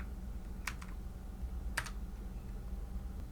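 Fingers type on a computer keyboard, with a few quick, crisp bursts of key clicks over a quiet room background and no talking.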